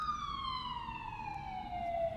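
An ambulance siren wails steadily as it passes, its tone slowly dropping in pitch over a low traffic rumble; fairly faint and distant, with no voices.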